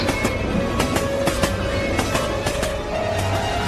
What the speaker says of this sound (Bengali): ঠিক সেই মুহূর্তে ট্রেনটা ক্রসিং পার হলো